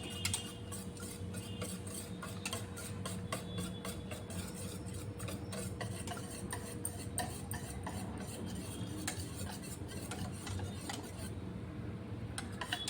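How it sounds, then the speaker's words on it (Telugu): A whisk mixing cornflour into beetroot juice in a bowl, rapid rhythmic ticking and scraping strokes that run continuously and fairly quietly, close by. "కార్న్ఫ్లోర్ వేసిన తర్వాత ఇలా విస్కర్తో ఉండలు కట్టకుండా మొత్తం మిక్స్ అయ్యేలాగా నీట్గా కలుపుకోవాలి"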